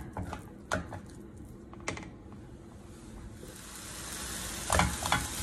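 Meat browning in a pan on a gas stove over medium-low heat, a steady soft sizzle with scattered clicks and stirring scrapes, close and fairly quiet, swelling a little toward the end, with no talk.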